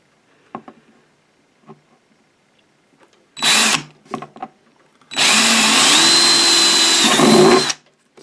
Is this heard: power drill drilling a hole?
yes